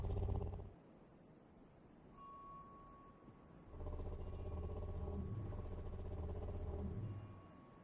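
A creature purring in the video game Bloodborne, a low, rough rumbling that breaks off briefly and then returns in a steady, throbbing stretch, faint and alone, with a thin tonal hum partway through.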